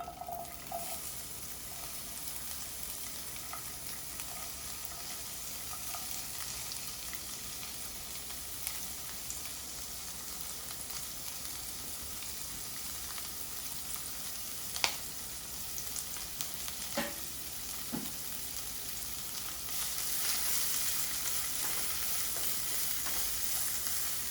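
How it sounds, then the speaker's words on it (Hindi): Chopped vegetables for spring rolls stir-frying in hot oil in a pan, making a steady, close sizzle throughout with a few sharp clacks of a utensil and a brighter hiss swelling near the end. "अब सारी सब्जियों को हम स्टर फ्राई कर लेंगे।"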